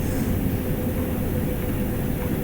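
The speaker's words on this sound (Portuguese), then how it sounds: "O trem tá diminuindo, deve estar chegando." A train in Train Sim World rolls in and slows toward a station, a continuous low rumble and drone holding steady throughout.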